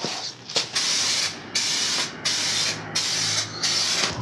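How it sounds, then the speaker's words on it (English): A spray can nozzle hisses out clear coat onto motorcycle fairings in a series of five or six bursts, each lasting about half a second to a second, close and fairly loud. "Yeah, that sprayed on quite impressively."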